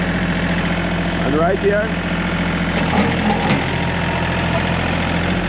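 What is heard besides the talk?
tractor engine idling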